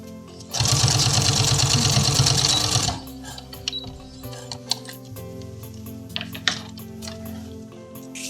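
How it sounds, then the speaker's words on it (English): A sewing machine stitches yarn basted between two layers of woven fabric for a crocheted saddle blanket, running in one loud, steady, close burst of about two and a half seconds, then faint handling clicks and rustles. "I'm just going to sew these to the top and the bottom."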